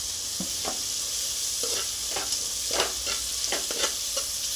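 Mint, coriander and curry leaves frying in a pan, with a steady bright sizzle under irregular scraping strokes of a spoon stirring them, close and fairly loud, with no talking.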